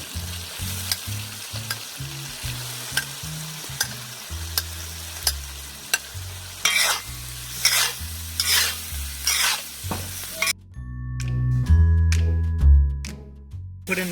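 Asparagus and tomatoes sizzle loudly in a hot pan during stir-frying, with intermittent stirring scrapes and clatter over a steady frying hiss and background music.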